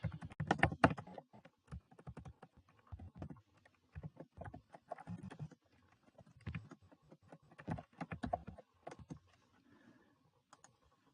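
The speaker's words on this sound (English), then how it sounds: "Sorry guys, I'm just typing something." Someone types on a computer keyboard during a livestream, producing quick irregular bursts of soft close clicks with short pauses between runs of keystrokes.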